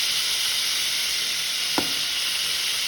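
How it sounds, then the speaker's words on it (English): Food sizzles steadily in a hot pan, a loud constant frying hiss with one brief scrape of a utensil stirring through it. "Let's stir it around."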